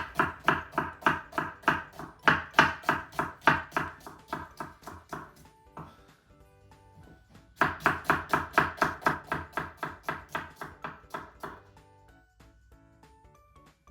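Rapid, steady knife chops on a cutting board while cutting onions, in two long bursts with a short pause between, close and crisp, no talking.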